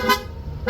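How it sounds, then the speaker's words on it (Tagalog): A Corsa horn on a Honda Click160 scooter's dual horn setup gives two short, close toots, one near the start and another at the end, with a quiet gap between them. "Corsa horn."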